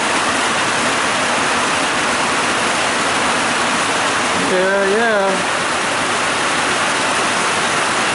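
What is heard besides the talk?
steady rain falling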